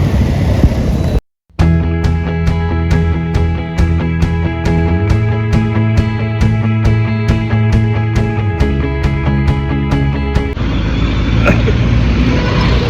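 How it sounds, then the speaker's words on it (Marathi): Traffic rumbles beside a bus stop, with an idling bus engine droning under a steady, evenly spaced ticking that runs for about ten seconds before it stops. "आपण पोचलो बस स्टॉपजवळ"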